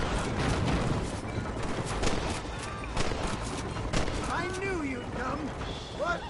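Gunshots in Red Dead Redemption, several sharp cracks scattered across a busy game soundscape with voices and other effects mixed in, fairly close and moderately loud.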